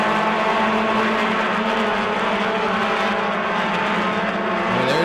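Race cars run heats on the New Smyrna track, a steady loud roar of engines throughout with layered whining tones, rising as one nears at the end.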